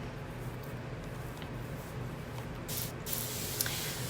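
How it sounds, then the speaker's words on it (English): Water sprayed from a spray bottle onto synthetic wig curls, a few soft hissing mist bursts over a steady low background, the strongest spray coming toward the end. "My first test was just to spray water and try and wrap the curls to see if it would work."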